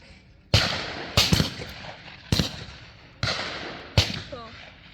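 Five sharp, loud shotgun blasts crack out at a clay shooting session, spaced about a second apart, each with a short echoing tail, and a voice speaks briefly between them.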